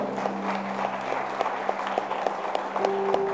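A church congregation applauds during a service, moderate clapping with a few sharper claps, accompanied by sustained tones and a faint voice.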